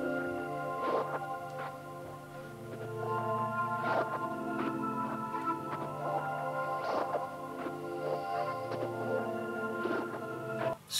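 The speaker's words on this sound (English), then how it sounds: "we got this Atmosphere on the Zero Gravity preset on Analog Lab 5" A Zero Gravity atmosphere preset pad from Analog Lab 5 swells softly in layered, airy tones with recurring bright accents, quiet and continuous on its own.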